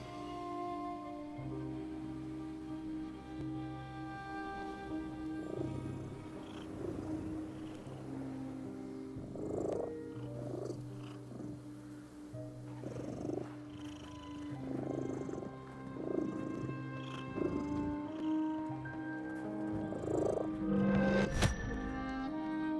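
Cat purring in The Midnight Walk video game: a steady low purr runs throughout at moderate level, layered under soft ambient game music and scattered thuds.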